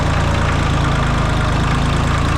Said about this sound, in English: So I got the tractor started.